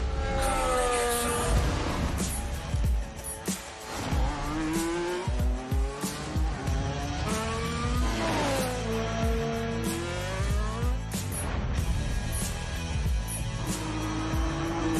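A Red Bull Formula 1 race car tears through city streets, its high-pitched engine rising and falling through rapid gear changes, with sharp tire squeals and skids, loud and close throughout.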